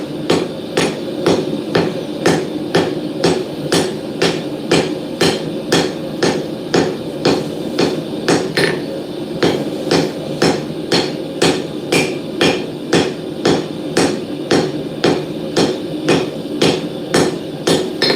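Steady, evenly spaced hammer blows ring out on steel during forge welding at a blacksmith's anvil, loud and close, about two strikes per second throughout with no talk.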